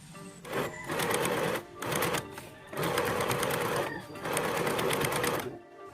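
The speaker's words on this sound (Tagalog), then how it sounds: "At tinahi ko ito ng straight upang mabawasan ang lapad nito" A sewing machine runs straight stitches along a thrifted top in three loud, close bursts of rapid whirring, each separated by brief pauses.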